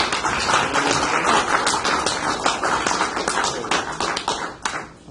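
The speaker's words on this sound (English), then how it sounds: "let's give Tim Bound a big round of applause." Applause from an audience at a talk, a dense patter of many hands clapping at close range that holds steady and then thins out toward the end.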